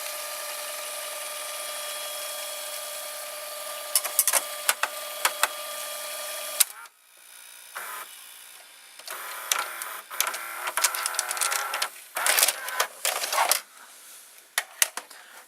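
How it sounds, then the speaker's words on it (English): The loading motor of an RCA VR335 VCR whirs steadily, then stops, followed by a series of close mechanical clicks, clunks and whirring bursts from the tape mechanism. "You can see the loading motor there."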